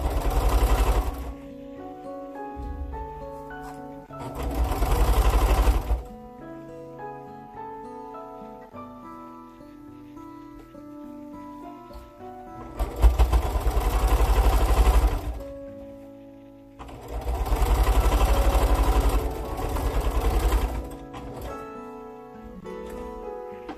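A sewing machine runs in two long bursts, stitching a seam on a small doll quilt, with a steady motor whir and needle chatter. Quieter stretches of handling fall between the bursts.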